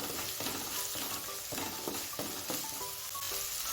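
Turmeric and red chilli powder are stirred into sizzling Kolhapuri misal masala in hot oil. Repeated rhythmic spoon strokes scrape through a steady close frying hiss.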